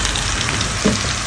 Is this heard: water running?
no